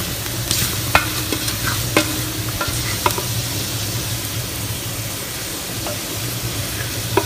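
Rice is stirred and toasted in a pot for chicken and chickpea rice, with a constant low sizzle and a spoon scraping and tapping the pot about once a second, close by.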